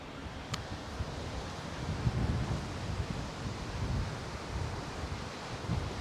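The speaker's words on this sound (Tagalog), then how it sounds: "Lakas pa ng hangin." Strong wind gusting across open ground at an outdoor tulip festival, a steady broadband roar with buffeting on the microphone that holds through the whole stretch with no talk.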